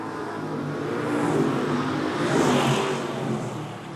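Several short track race cars roar together around an oval in a 2014 Super Short Track Racing Series event, a dense continuous engine drone that swells and fades as the pack passes, with no voices.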